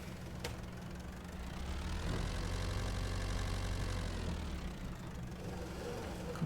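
A truck engine idles steadily in the Farming Simulator 22 video game, a continuous low rumble with a slight swell in the middle, heard alone without talk.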